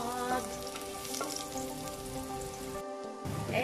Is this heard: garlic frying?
yes